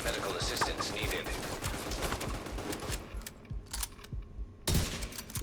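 Pistol gunfire in The Division 2 video game, a steady stream of muffled shots under dense game noise, with a brief lull and a sharp burst near the end while a voice talks.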